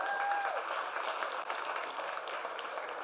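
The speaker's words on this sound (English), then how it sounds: "Can we give a round of applause for that?" An audience at a real estate masterclass session in Orlando applauds in a steady, moderately loud wash of many clapping hands that carries on throughout without letting up.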